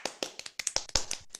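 A few people in a small audience clap after a performance, giving sparse, irregular claps, close and fairly dry, with uneven gaps between them.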